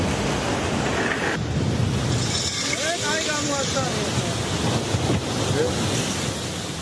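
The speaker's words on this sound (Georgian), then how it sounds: "ტალღა სანაპირო ზოლის შემდეგ დასახლებულ პუნქტამდეც აღწევს" Storm sea waves surge onto the shore and toward a coastal settlement, a loud continuous roar of surf with heavy wind buffeting the microphone throughout.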